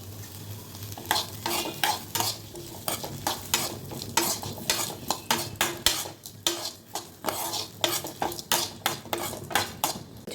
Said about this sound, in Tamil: இப்போ நம்ம எடுத்து வச்சுருந்த வரமிளகாவை சேர்த்துக்கலாம்.